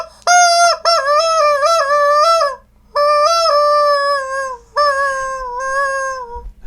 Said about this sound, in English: This is like a chicken unicorn and a reindeer, and then the chicken's head is gone, but you can play it like a flute.